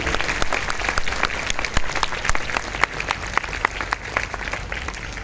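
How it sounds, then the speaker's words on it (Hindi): Audience applause at a company event where a live orchestra provides entertainment, steady dense clapping from a crowd filling the room throughout, loud and sustained without pause. "तो उनके लिए भी ताली बजनी चाहिए"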